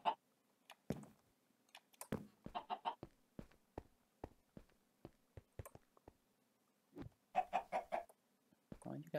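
Chickens clucking in Sky Factory 3, a Minecraft game, a string of short sharp clucks and squawks in irregular bursts, fairly close, with quiet gaps between calls.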